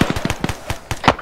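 Grenade blasts on an airsoft field exercise, a quick burst of sharp, close pops in rapid succession, loud and with no talk.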